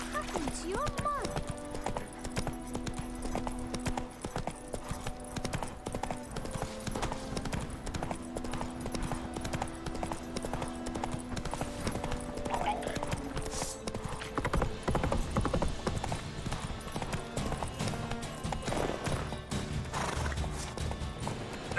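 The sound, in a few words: horse Roach trotting and neighing, from video game The Witcher 3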